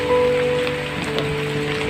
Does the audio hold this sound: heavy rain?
yes